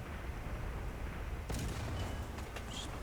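A single faint tank cannon shot in the War Thunder ground forces battle, one sharp blast with a short rumbling tail heard at a distance over steady low background noise, then a few scattered smaller impacts.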